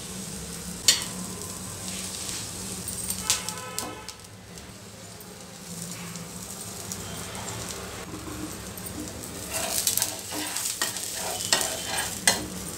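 Egg masala dosa frying in oil on a pan over a medium flame, a steady soft sizzle with scattered crackles and pops that grow busier near the end, no voices.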